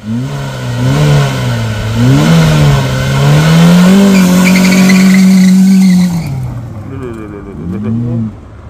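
A car on a test drive, its engine droning loudly and revving up and down in smooth swells before easing off and picking up again near the end.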